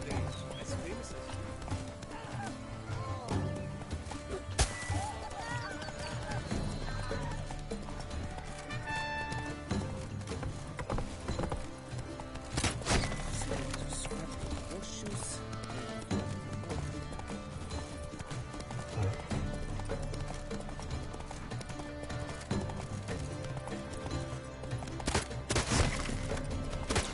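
Roach, a horse in The Witcher 3 video game, gallops with steady rhythmic hoof clip-clops amid game sound effects and an occasional whinny, with voices talking over parts of it.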